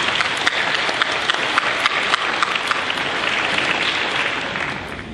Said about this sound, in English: Let's clap for the virtual and turning point students